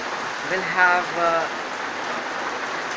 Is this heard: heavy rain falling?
yes